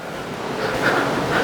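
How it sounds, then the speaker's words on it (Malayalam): Strong wind sweeps across a house balcony as a steady, loud rushing roar, buffeting the microphone with no voices heard. "ആഹാ ഭയങ്കര കാറ്റ്"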